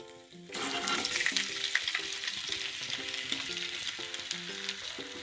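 Thin, skin-on slices of medium potatoes for aloo katli hit a hot pan with a sudden loud burst of sizzling that settles into steady frying, while music with a repeating melody plays underneath.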